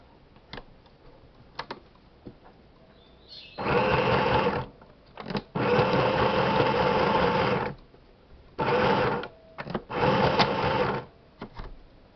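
Sewing machine stitching felt fabric for a baby shoe, running in four steady bursts of a few seconds each separated by short pauses with faint clicks, close and alone without talk.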